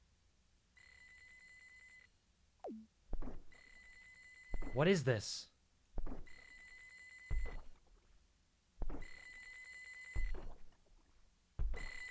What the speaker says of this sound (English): It's a phone.